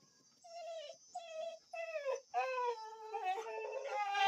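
A dog whimpers and whines in a series of high, wavering cries, some rising into short howls, fairly faint over a steady high hum.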